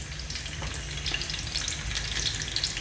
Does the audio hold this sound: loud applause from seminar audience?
no